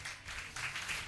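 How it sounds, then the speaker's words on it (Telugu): A church congregation applauds during a Telugu sermon, a soft, steady patter of many hands clapping at a distance, faint and continuous throughout. "చప్పట్లు కొడతాం."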